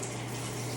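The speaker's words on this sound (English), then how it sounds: "basically then I will rinse this pepper once more" Tap water runs steadily in a kitchen sink while a pepper is rinsed, a soft continuous rushing that stays even and fairly quiet.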